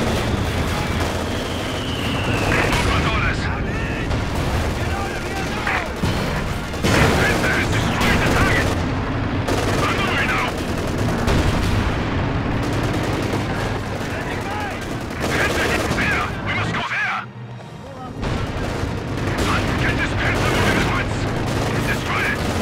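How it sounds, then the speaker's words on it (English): Fragmentation bombs burst in the World War II strategy game Company of Heroes, a dense barrage of booming blasts and crackling gunfire rolling continuously, with voices heard over the din. "Fragmentation bombs."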